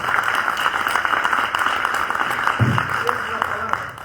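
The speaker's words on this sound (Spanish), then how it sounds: "Un fuerte aplauso." An audience claps for a history speaker introduced at a talk on Peru's viceregal era, a steady wash of applause running throughout at moderate loudness, with a brief low thump partway through.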